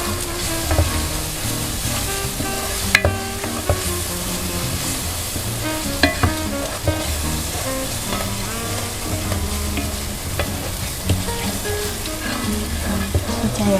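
Green curry paste stir-fries in a hot pan with a loud, continuous sizzle and crackle, while a spatula scrapes and taps at irregular moments and no one speaks.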